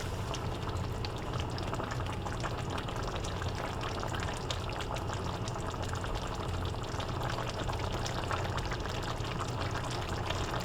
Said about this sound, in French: Je vais vous laisser écouter le bouillonnement.